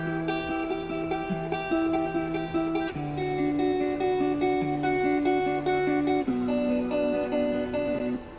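An original guitar sample for an EDM track plays back alone, a steady sequence of bright plucked notes with clear pitched harmonics that change in short phrases.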